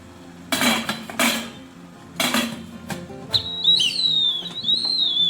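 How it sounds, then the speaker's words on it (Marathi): A shrill steam whistle rises and wavers for a couple of seconds, following several bursts of clattering metal pots and utensils. "ही शिट्टीचा आवाजच आहे तो, म्हणजे चुईंग असा."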